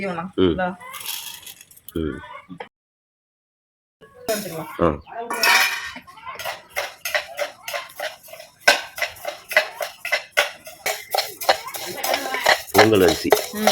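Parboiled rice roasting in a pan for homemade spice powder, stirred with a metal spoon: repeated scraping and clinking strokes, busy and close, with a short pause early on and faint talk underneath.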